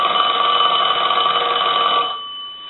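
A Western Electric 2514 desk telephone, under repair, rings its mechanical bell in one steady, loud, metallic burst lasting about two seconds, then cuts off and leaves a short ringing decay, with no talk.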